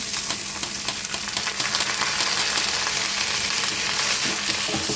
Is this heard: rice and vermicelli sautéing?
yes